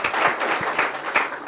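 An audience at a developer conference in Berlin claps for a staff member standing up, a brisk burst of many hands with distinct individual claps popping out of the wash, close and fairly loud.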